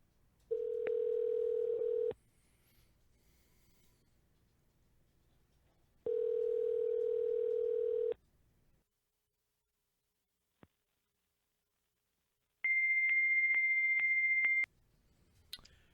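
A fax machine on a phone line sends three long, steady electronic tones separated by silence, the last one pitched higher, with faint clicks on the line.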